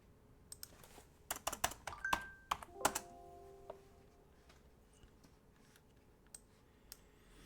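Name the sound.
typing on a computer keyboard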